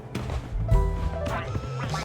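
Cartoonish duck quacks from a duck race video game, a few short quacks mixed with game sounds and a faint voice, moderately quiet.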